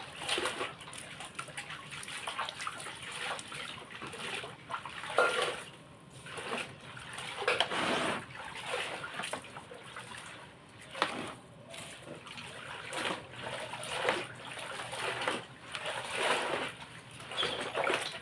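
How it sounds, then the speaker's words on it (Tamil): Water splashes and pours during household cleaning as surfaces are rinsed and washed, a continuous close wash of sloshing and trickling in uneven surges, with no talking over it. "இப்போ அலசிட்டு கழுவிட்டு காய வைக்கணும்"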